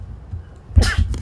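A single loud, close sneeze bursts out after a quiet moment, followed by a brief breathy tail.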